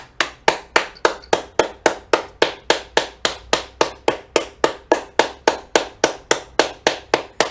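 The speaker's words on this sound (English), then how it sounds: "Let's give them a round of applause." Sharp, evenly spaced hand claps, about three per second, repeating steadily and up close, with no voices.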